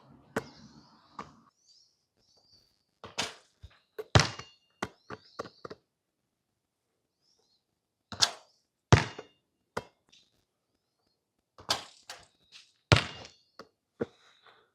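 Basketball shots striking the side of a backboard in a gym, with sharp thumps and bounces arriving in separate clusters and quiet gaps between them, no speech.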